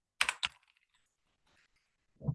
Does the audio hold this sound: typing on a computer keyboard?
yes